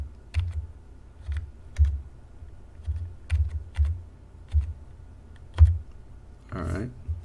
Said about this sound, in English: I'm just going to use my keyboard to kind of get it close